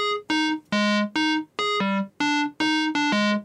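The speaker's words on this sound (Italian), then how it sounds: "Una normale onda square suona così." Plain square-wave synth tone playing a short melodic phrase of about nine separate sustained notes that jump between two registers, bright and buzzy with strong upper harmonics, heard alone with no talking.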